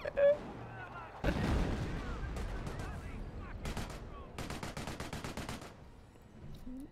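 In the World War II strategy game Company of Heroes, a grenade explodes with a sudden boom. Rapid bursts of machine-gun and rifle fire follow, with faint voices underneath.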